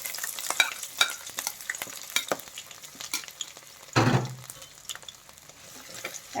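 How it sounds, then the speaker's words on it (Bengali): Chopped onion and green chili go into hot mustard oil, setting off a sudden loud sizzle partway through, with scattered stirring clinks and scraping in the pan before and after. "তেলটা গরম হয়ে গেছে। এখন আমি এর মধ্যে দিয়ে দিচ্ছি পেঁয়াজ আর কাঁচামরিচ কুচি।"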